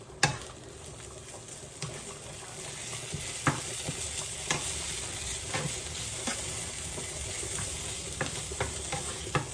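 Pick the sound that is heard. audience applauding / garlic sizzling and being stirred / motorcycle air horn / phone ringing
garlic sizzling and being stirred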